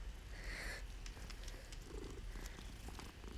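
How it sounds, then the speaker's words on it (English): A black cat purrs in the video game Hogwarts Legacy, a soft, low continuous rumble heard faintly and close, with no speech. "Oh, it's a black cat."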